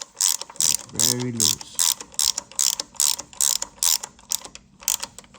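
Ratchet wrench turning a bolt during a Toyota 2JZ engine front main seal install, giving a steady series of close, sharp clicking bursts, with a brief spoken remark near the start.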